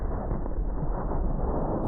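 A deep, rumbling boom that rolls on steadily with no sharp onset, muffled and low-pitched like a distant explosion.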